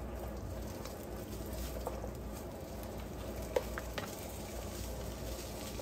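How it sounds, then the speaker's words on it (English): Sausages sauté in a frying pan before vegetables go in, giving a steady, quiet sizzle and crackle with a few light clinks of a utensil against the pan. "we're gonna saute the sausage for about 2 or 3 minutes before we add in the veggies"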